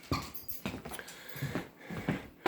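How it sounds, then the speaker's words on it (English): A dog whimpers nearby in a string of short, thin whines and snuffles. Soft scuffling sounds fall between the cries. "crazy dog again"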